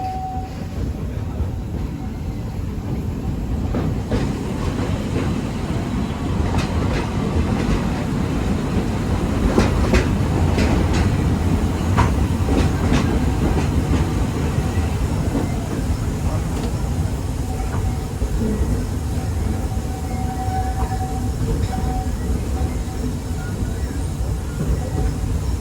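Walt Disney World Railroad steam train ride, heard from on board: a steady rumble with wheels clacking over rail joints, a faint whistle tone near the start, and scattered metallic squeals and clanks. Voices murmur underneath.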